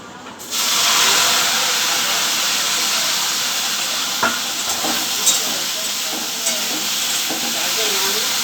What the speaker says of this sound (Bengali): এখানে ভিন্ডিও ভাজতে দিয়েছি